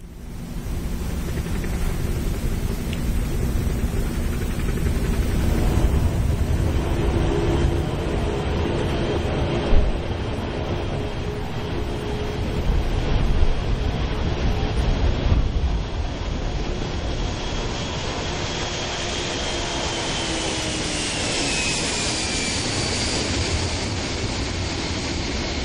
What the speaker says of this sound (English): beginning to thunder down shuttle landing facility runway 15, heading to the southeast, taking to the skies for one last time from Kennedy Space Center.